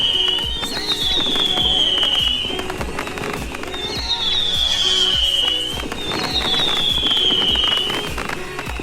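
Fireworks crackle and pop continuously, with a rising whistle repeating three times amid dense bursts of bangs, loud and close throughout.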